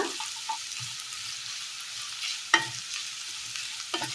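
Curry leaves sizzling in a pan for Kerala sardine curry: a steady, moderate hiss of frying with occasional sharp stirring clicks and scrapes close by.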